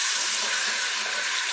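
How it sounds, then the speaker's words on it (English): A splash of water hitting a hot curry pan of browned ox cheek sets off a steady hiss and sizzle, close and unbroken for a moment. "what I do now is add a little bit of water to that, just a splash or two"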